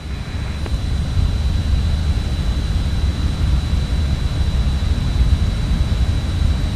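Just Flight RJ regional jet on its takeoff run in Microsoft Flight Simulator, a steady, loud jet-engine roar with broadband rumble that holds constant throughout without letup.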